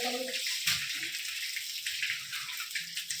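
Water runs into storage containers, a splashing gush with a bright hiss that is heavy at first and continues unevenly, with a few faint voice-like tones early on.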